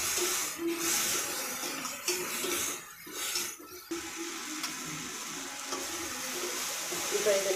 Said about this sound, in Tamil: இப்போ இதை நல்லா ஃப்ரை பண்ணிக்கோங்க.